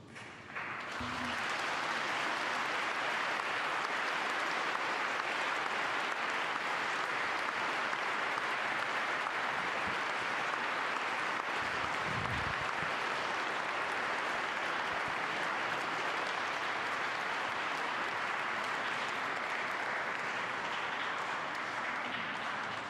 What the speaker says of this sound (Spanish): Inmediatamente el aplauso a las palabras del Santo Padre